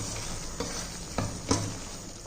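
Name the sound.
sautéing gravy mixture in a pan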